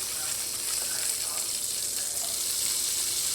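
Green chillies frying in oil in a pan: a steady, soft hiss and sizzle, close and continuous, with no breaks.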